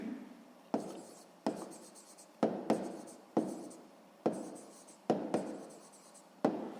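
Pen writing on paper during a sixth-grade maths exercise, heard as close, quiet scratchy strokes in about eight short bursts, each starting with a sharp tap and fading, with no voice over them.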